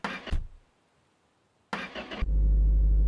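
In the video game My Garage, a car engine cranks briefly, then catches and settles into a loud, steady idle that carries through to the end, after a short earlier burst of sound.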